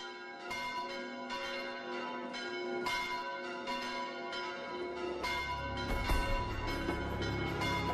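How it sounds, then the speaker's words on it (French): Several church bells peal together calling to Sunday mass, in overlapping, irregular strikes, their resonant tones ringing out and layering over a low hum, with no voices. "Depuis le XVIe siècle, les cloches appellent à la messe du dimanche."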